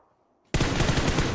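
Sustained automatic gunfire spray in PUBG Mobile during a competitive esports match, bursting in loud and dense after a half-second lull of faint background and continuing without a break to the end.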